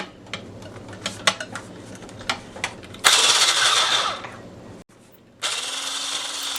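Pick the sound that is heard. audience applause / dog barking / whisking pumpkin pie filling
whisking pumpkin pie filling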